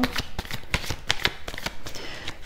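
Tarot cards being shuffled and drawn, a close, crisp run of riffling flicks and soft slaps repeating steadily for a couple of seconds with no voices.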